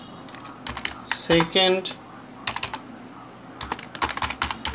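Computer keyboard typing while entering code in Visual Basic 6.0: scattered close key clicks in short clusters, with someone speaking briefly in the middle.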